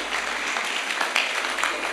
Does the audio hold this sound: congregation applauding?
yes